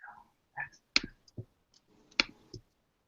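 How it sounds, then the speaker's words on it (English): Several sharp, isolated clicks in an uneven rhythm, like keys struck one at a time on a computer keyboard while a URL is entered, close and fairly loud with no talking. "So we're typing this in our URL now."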